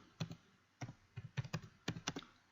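Typing on a computer keyboard: several quick bursts of sharp, close key clicks in irregular clusters, quiet overall with no voices.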